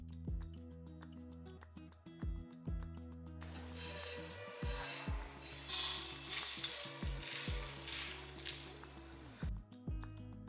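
Curry leaves for tamarind rice hit hot oil and crackle into a bright sizzle midway, stirred briefly, with soft background music playing before and after.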